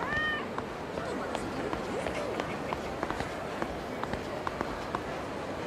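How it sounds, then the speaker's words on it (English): A cat in the video game Yakuza 0 gives a short meow near the start, then running footsteps patter steadily amid street ambience while someone talks over the game. "That's a cat."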